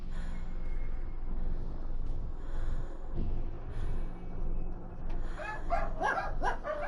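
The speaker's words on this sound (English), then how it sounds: "every stream or video I get barks" A dog makes soft snorts and whimpers, then gives several quick, high yips toward the end, heard up close over a steady background of low noise.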